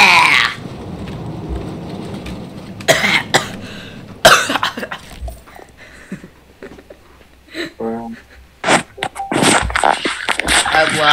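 A person coughs hard in a brief fit, with a few loud bursts near the start and middle, mixed with chatty voices and laughter around it.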